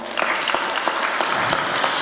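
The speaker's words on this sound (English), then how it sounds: "can we just clap for them?" A crowd at a memorial gathering in Kenya applauds steadily, with many hands clapping at once in a dense, even roar and a few sharper claps standing out.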